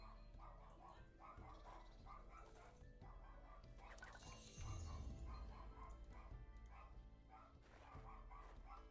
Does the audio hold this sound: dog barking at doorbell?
yes